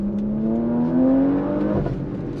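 A 2022 Porsche Macan GTS turbocharged performance SUV accelerates hard, its engine note climbing steadily in pitch, close and fairly loud, then easing off toward the end, with no talking.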